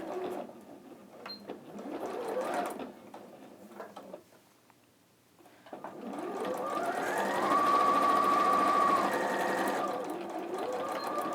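Domestic sewing machine stitching a 0.5 cm seam with a back tack, a quick burst of whirring stitches, a pause, then a longer steady run that rises and slows at the end, close and clear with no talk.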